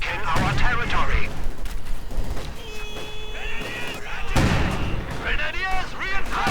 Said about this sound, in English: Mortar Half-Track actually scoring some kills now.